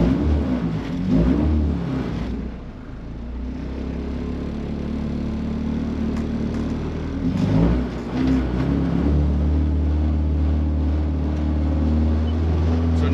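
A K-swapped Honda Civic EG runs near a shop, a loud steady engine drone that swells as it accelerates around two and seven seconds, with no talk over it.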